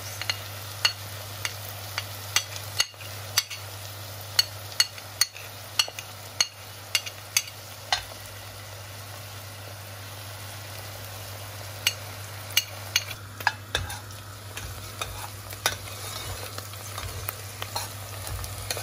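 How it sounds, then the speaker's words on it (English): Onions sauté with garlic, ginger and bay leaves in a pan, a low steady sizzle broken by frequent sharp clinks and scrapes of a spoon stirring. "as the onions have softened, they are well sauteed with the ginger and the garlic"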